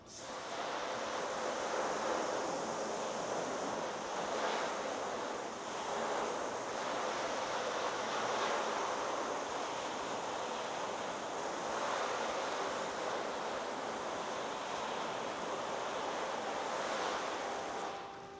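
Water rinsing a car during a wash with Turtle Wax Pure Wash, a continuous broad hiss of spraying water rising and falling in surges, fairly faint and steady with no talk.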